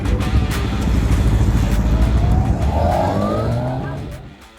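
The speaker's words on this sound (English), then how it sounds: "there's a few bikes trying to go around the cones" Motorcycles at a biker training academy ride around cones, engines revving loudly and close as they corner, with a rising whine that then fades away.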